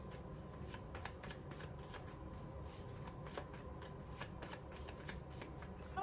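Homemade tarot cards are shuffled in a steady run of quick riffling flicks and soft shuffles, close up and quiet, continuing throughout.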